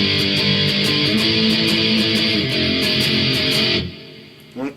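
Electric guitar plays the verse chords of a song in steady, driving strums with dense, ringing harmonics. The strumming runs for about four seconds, then stops abruptly and leaves a fading tail.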